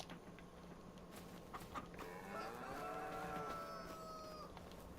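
A cow in Farming Simulator 25 moos in a long, drawn-out low call over a faint steady background hum, with some soft clicks before it.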